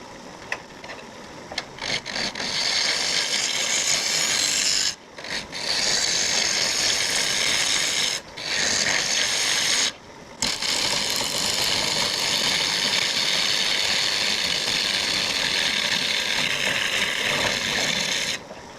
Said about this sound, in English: It's an aggressive bit, aggressive tool, so you have to be careful with it.